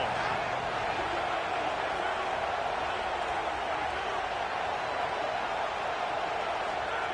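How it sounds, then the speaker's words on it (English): Broadband stadium crowd roar from a Penn State versus TCU college football video game, steady and loud for the whole stretch with no break or swell. "This crowd ready to make its presence known."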